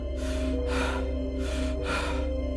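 A stranger panting heavily while approaching a couple on an evening neighbourhood walk: four loud, close, evenly spaced breaths over a low steady hum, with no talking.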